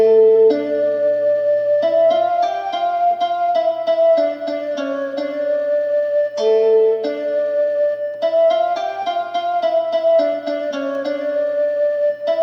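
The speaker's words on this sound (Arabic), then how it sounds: "هذا صوت القانون" The qanun voice of an LP6110E oriental keyboard plays a plucked melodic phrase with fast repeated notes, twice over, loud and clear with no talking.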